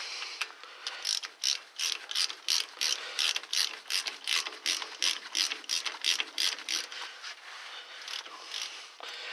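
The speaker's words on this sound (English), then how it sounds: "then we can use our socket and go ahead and tighten it down." A socket ratchet tightening the fitting on a replacement brake flex line of a Ford, a long run of rapid, crisp clicking strokes, close and steady with brief pauses, no speech.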